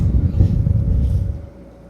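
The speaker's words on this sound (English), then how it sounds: "the winds are still 25, gusting to 30" Strong wind gusting at 25 to 30 knots on a sailboat in the Spanish Virgin Islands, a heavy low roar buffeting the microphone close up, then dropping off sharply as the gust eases.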